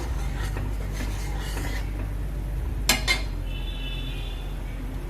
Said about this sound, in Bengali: এইবারে আমি এতে 1/2 চামচ লবণ দিয়ে দেবো, দিয়ে একটু নেড়ে নেব